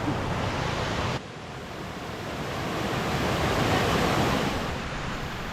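Constant roar of a waterfall, a broad steady wash of noise with some wind buffeting, no voices.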